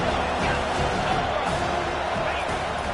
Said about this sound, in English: here comes the noise. This crowd is trying to inspire this defense